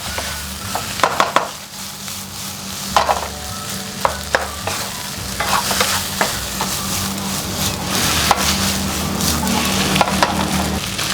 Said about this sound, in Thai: ผัดให้มันเข้ากันกับเนื้อปลากระป๋อง